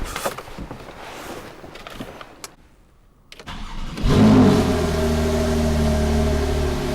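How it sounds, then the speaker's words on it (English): A Porsche Carrera 2 with a 3-litre twin-turbo engine cranks over after a short quiet gap, catching with a loud burst and settling into a steady, full idle rumble close by. "I said I would start the engine up, didn't I?"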